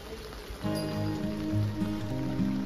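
Rain falls in Darjeeling as a soft, continuous patter under a low rumble. A faint steady tone sits beneath it.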